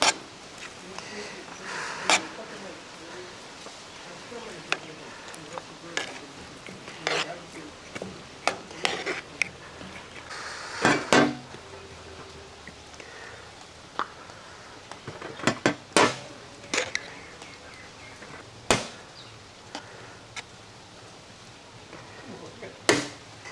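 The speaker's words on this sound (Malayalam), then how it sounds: "റൈസ് ഒന്ന് മിക്സ് ചെയ്യാം." Cooked rice for beef mandi being mixed in a pot, with repeated scraping and clinking of a metal spoon against the vessel in irregular bursts, fairly close, with faint talk in the background.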